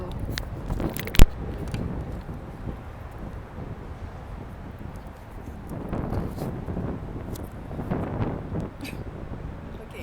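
Gusty outdoor wind rumbles and buffets the microphone in low, uneven surges, with one sharp knock early on and no speech over it.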